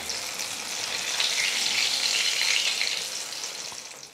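Sweet potato bondas deep fry in hot oil, a close, bright bubbling sizzle that swells in the middle and eases toward the end, with no voices.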